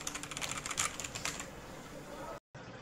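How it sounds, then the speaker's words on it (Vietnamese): Close, fairly soft typing on a mechanical keyboard fitted with Element XDA profile PBT keycaps, a rapid patter of keystrokes that thins out after about a second and a half into quieter taps, with a brief dropout near the end. "Đây là tiếng gõ trên phím Element XDA keycap."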